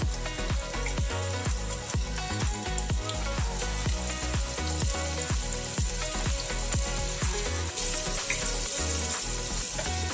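Garlic paste sizzles in a pan over browned onions, part of a chicken biryani. A steady frying crackle runs throughout, partly under a loud rhythmic backing.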